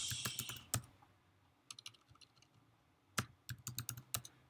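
Quick clicks of typing on a computer keyboard, a burst of keystrokes, a pause with scattered taps, then another rapid flurry.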